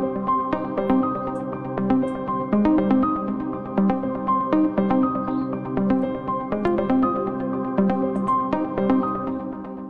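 A Keyscape cinematic keyboard preset in an afro house arrangement in FL Studio plays sustained, layered chords over a steady rhythmic pulse, full and continuous throughout.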